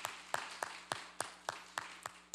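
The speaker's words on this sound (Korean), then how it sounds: "하나님께 영광의 박수 올려드리겠습니다." A church congregation at a Korean Sunday worship service claps in slow, regular unison, about one clap every third of a second, faint and distant in the sanctuary.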